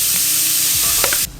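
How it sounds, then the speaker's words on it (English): Minced mushrooms tossed into a hot pan and stirred, giving a steady close sizzle with scraping stir strokes that cuts off abruptly near the end. "now I'm going to add the minced mushrooms"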